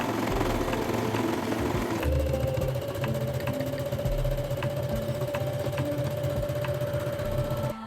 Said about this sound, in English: Finish the seam with an overlocker or a zigzag stitch.